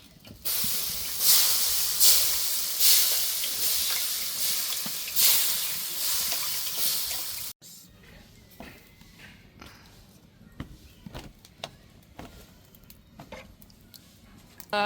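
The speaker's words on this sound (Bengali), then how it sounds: "অলরেডি ভাজা শুরু করে দিছে অলরেডি" Batter frying in a hot pan for homemade pitha, a loud hissing sizzle that swells in waves for several seconds, then cuts to quieter kitchen clatter and scattered knocks.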